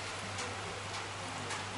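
Steady rain falling in a village during a Turkish wedding gathering, a faint continuous patter with occasional soft drips and a low background hum.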